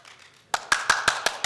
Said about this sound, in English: I'll even clap for that